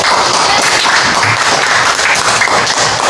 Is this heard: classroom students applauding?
yes